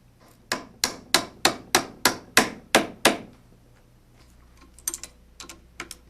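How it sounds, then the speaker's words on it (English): A plastic hammer drives bolts through holes in aluminum parts with nine evenly spaced, sharp knocks. A pause follows, then a few lighter taps and clinks, all close by and with no talking. "a plastic hammer to drive the bolts through the holes"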